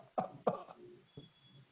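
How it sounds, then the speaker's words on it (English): A man coughs three times, with two sharp, close coughs in quick succession, a short pause, then a single softer cough, in a quiet room. "you seem to be coughing much more easily this morning"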